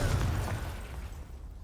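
A Confringo spell explodes in the video game Hogwarts Legacy, giving a single loud, deep boom with a rumbling burst that slowly fades over a second or so.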